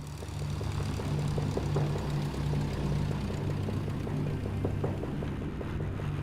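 A small propeller plane flying over burning forests gives off a steady, close engine drone with a throbbing propeller buzz that holds at an even loudness throughout.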